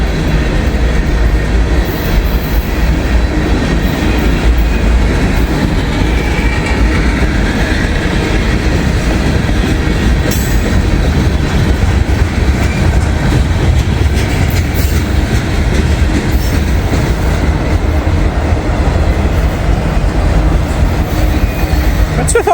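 A massive heavy freight train with DPUs and helpers notched up, climbing a steep hill at good speed, giving a loud sustained rumble of engines and rolling railcars with steady wheel clatter and occasional faint squeal.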